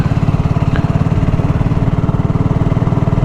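Steady, rhythmic thump of a BSA Goldstar 650 motorcycle engine running close by, a loud, even low pulse held throughout with no voices.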